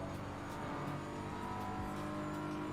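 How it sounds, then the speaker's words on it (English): A race car engine in a Silverstone racing simulator drones and revs steadily, rising and falling in pitch with gear changes, loud and alone without speech. "Hearing the engine is important."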